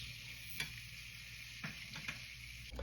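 Caraway, mustard and fennel seeds toasting in ghee and oil over medium heat, a faint steady sizzle with a few soft stirring clicks and taps, close and quiet.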